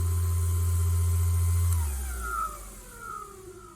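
A SAKER cordless 6-inch dual-action buffer polisher hums with a steady motor drone, then spins down, its pitch falling and fading over a couple of seconds, close and without talking.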